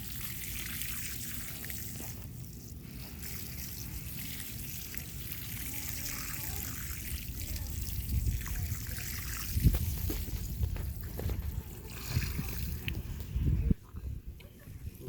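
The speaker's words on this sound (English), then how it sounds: "with the watering can, we're just going to drench it" Water pours from a watering can onto a shrub out to its drip line, a steady trickling splash that swells and gushes in bursts toward the end, close and fairly loud.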